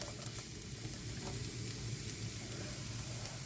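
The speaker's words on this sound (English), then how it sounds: "So I'm going to go in now with my shredded cabbage." Shredded cabbage sizzles and crackles steadily in a hot pan as it is added, a dense continuous frying hiss with no voices over it.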